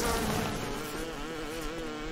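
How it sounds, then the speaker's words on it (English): Bees buzzing in the video game BioShock, a continuous droning, wavering hum that holds steady and close across the whole stretch without any voices. "Let's go back for the bees."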